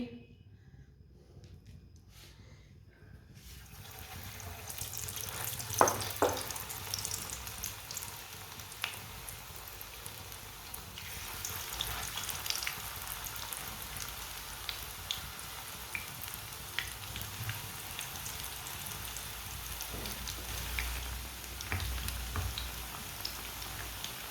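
Spoonfuls of pakora batter drop into hot ghee and sizzle, starting after a short quiet and building into a steady, crackling fry with occasional pops and splashes, close and moderate in volume.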